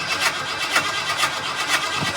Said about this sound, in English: normally what this thing likes is foot to the floor, crank, let off. It'll fire up.